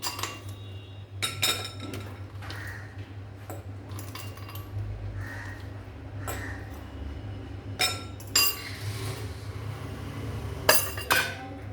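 Hard ice cubes clink and rattle against a vessel of ghee while making homemade butter, in scattered bursts, sharp bright knocks at irregular intervals over a low steady hum.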